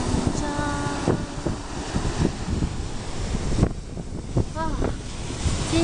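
Wind and surf roll along the Yilan seashore beside a concrete tetrapod breakwater, a constant roar buffeting the microphone, with occasional louder wave surges and brief faint voices.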